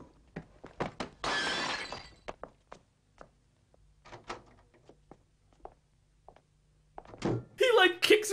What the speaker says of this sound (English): He like kicks a piece of the glass out of the window